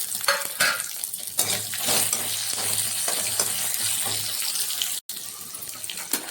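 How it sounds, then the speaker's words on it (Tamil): Ginger and garlic sauté in a pan for a goat intestine curry, making a crackling, watery sizzle with stirring scrapes and a brief sudden dropout near the end. "கொஞ்சம் பூண்டையும் சேர்த்து வதக்கிக்கலாம்."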